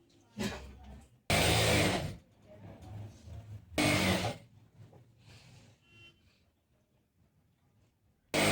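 A sewing machine stitches elastic onto a plazo in two loud, whirring bursts of about a second each, with quieter handling and faint speech between them and another burst starting at the end.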